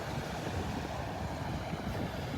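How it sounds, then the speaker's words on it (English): Steady roar of surf and wind along a Gulf of Mexico beach at Wiggins Pass, Delnor-Wiggins park, with continuous broadband wash and microphone wind buffeting, no voices. "A lot of waves out there in the Gulf."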